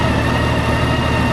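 A 2003 Honda Goldwing GL1800 motorcycle converted to a Champion trike runs at a steady idle, a smooth continuous engine drone heard close up and alone.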